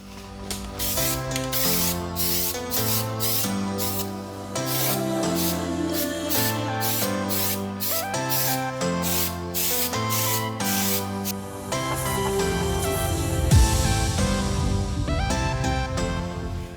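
Parts from a wrecked Panigale V4S race bike rebuild get sprayed flat white, with repeated bursts of aerosol hiss rising over steady background music.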